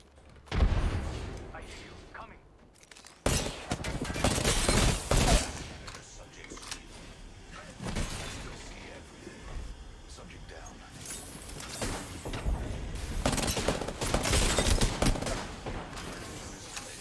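Video game gunfire comes in irregular bursts of loud, close shots and volleys, broken by short pauses, with a heavy opening blast and a person talking in between.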